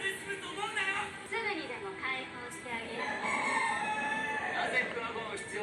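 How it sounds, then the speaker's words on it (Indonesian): A rooster crows repeatedly at midday, around 1 pm, fairly distant and partly masked by a person talking continuously over it. "Buset, ayam berkokok mulu."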